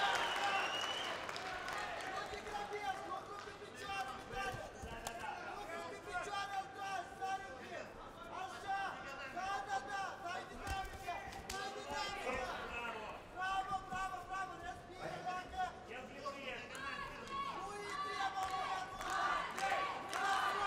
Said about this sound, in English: Crowd coming alive again.